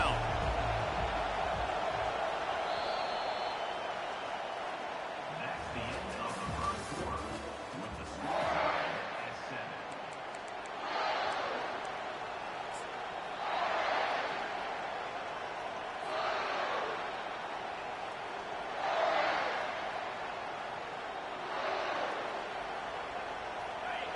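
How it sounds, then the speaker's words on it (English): A stadium crowd at a Baylor Bears football game roars behind the defense on third down, a broad, distant wash of cheering that swells in several waves, with a commentator talking over it. "Decibels rising as the crowd gets behind this defense on 3rd down"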